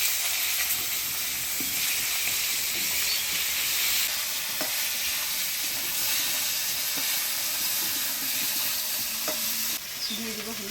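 Cut eggplant hisses and sizzles steadily as it goes into hot oil tempered with nigella seeds and green chili in a village kitchen, with a continuous loud frying roar, occasional stirring clinks and no talk.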